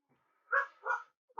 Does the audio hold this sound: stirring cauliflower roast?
no